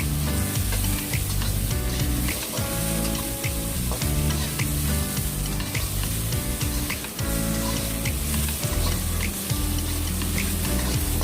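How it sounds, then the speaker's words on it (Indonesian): Onion and garlic sauté in hot oil in a pan, sizzling loudly and steadily with occasional stirring scrapes, and no talking over it. "panaskan minyak kembali. Tumis bawang, harum, kemudian masukkan loisun"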